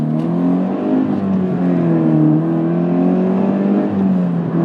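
Close, steady in-car drone of a 2017 Subaru BRZ engine under acceleration through a mid-rev torque dip, a smooth rising tone that flattens and sags slightly, with no talking.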